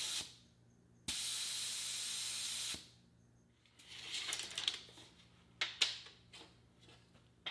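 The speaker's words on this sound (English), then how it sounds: "Deflate my tire" Air hisses out of an ATV mud tire as it is deflated while still hooked up: one loud, steady burst lasting under two seconds, followed by quieter rustling and handling noises.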